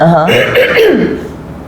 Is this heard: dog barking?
no